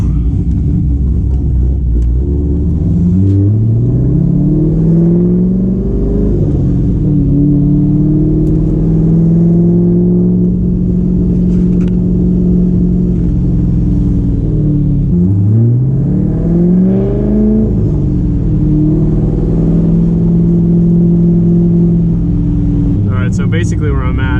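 A Chevrolet Corvette C5 engine is heard from inside the car during a drive, loud and close: deep, rumbling revs rising through the gears, a brief drop at a shift, then climbing again, with no talk.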